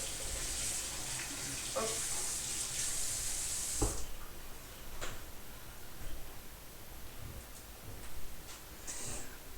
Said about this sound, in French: Je vais rincer mes filets de truite.